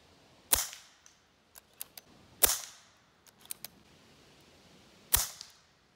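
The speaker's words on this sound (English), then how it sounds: "This is definitely pretty loud without any kind of suppression." An unsuppressed AirForce TalonP air pistol fires three sharp, loud shots spaced a couple of seconds apart, with small mechanical clicks and clacks from handling between them and no talking.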